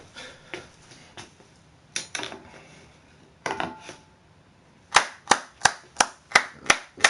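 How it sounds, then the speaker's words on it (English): An audience breaks into applause for a painter at an art and education event, scattered claps at first building into a run of sharp, loud, evenly spaced claps near the end. "Round of applause to my man, Dark Trenton."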